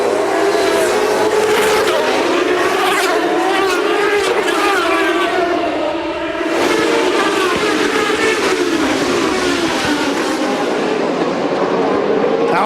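A pack of Champ Car race cars roars away from a standing start at Portland, many engines wailing and rising in pitch together, loud and continuous with a crowd-like wash of sound beneath.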